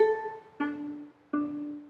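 Ukulele riff, played with the middle finger barring two strings at once; three plucked phrases ring out close and clear, each sharp attack decaying into a sustained tone, with no talking.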